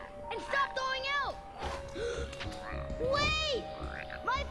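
Frogs croak in a cartoon scene from Avatar: The Last Airbender, with several loud, close croaks sounding in bursts while voices talk over them throughout.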